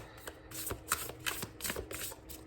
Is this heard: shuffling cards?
yes